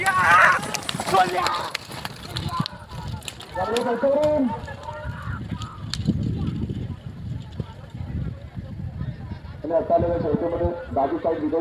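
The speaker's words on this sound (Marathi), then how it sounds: "बघा किती जोरात आणि जीव तोडून बैल जोरात धावतात बघा." Hooves of racing bullocks pound in a rapid, uneven rumble as they race past at a bullock cart race, mixed with shouting and excited voices that rise and fall throughout.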